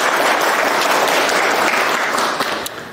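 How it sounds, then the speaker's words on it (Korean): An audience at a car-wash detailing lecture bursts into loud, sustained applause, a dense wash of clapping that stays strong and tapers slightly toward the end. "박수 한번 주세요."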